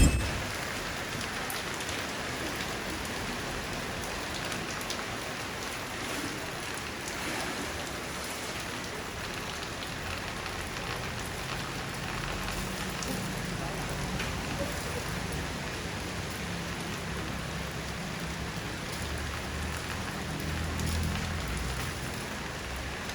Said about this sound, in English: the rain is starting to pick up again.